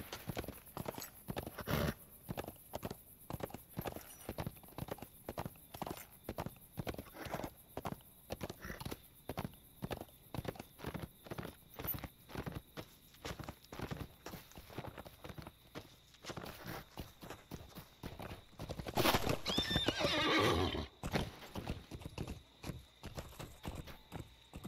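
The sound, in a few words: herd of horses neighing and hooves in Lord of the Rings Online video game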